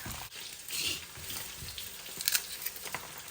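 Chicken frying on high heat in a pan for a peanut chicken stir-fry, a steady close sizzle with occasional brighter spatters and crackles.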